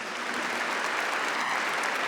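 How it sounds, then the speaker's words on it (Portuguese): Congregation at a Catholic Eucharist service applauding, a dense, even roll of clapping from many hands, steady and loud throughout with no voices on top. "Vamos aplaudir a palavra de Deus?"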